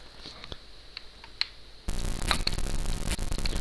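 Apple II game Raid Over Moscow plays noisy, hissy sound effects: quiet ticks and clicks at first, then a sudden loud burst of continuous static-like noise with sharp crackles.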